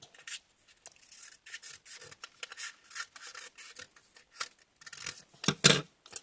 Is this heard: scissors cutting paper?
yes